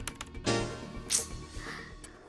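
Someone taps out a password on a phone, giving a quick run of light clicks and taps close up, with no voices.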